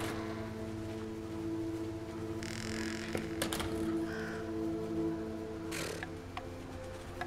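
Crows cawing near an outhouse on a freezing winter night in the game Röki, a few harsh caws over a steady low hum and soft ambient tones.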